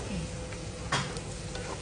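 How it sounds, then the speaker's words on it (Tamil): Onions sautéing in a pan, a dense continuous sizzle close up with one brief sharp stir or tap partway through, no voices. "வெங்காயம் நல்லா வதங்கிடுச்சு."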